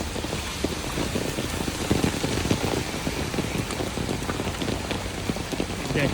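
Heavy rain pours onto flooded streets in Dhaka, a dense and steady hiss of drops striking water and hard surfaces, with a faint engine hum underneath.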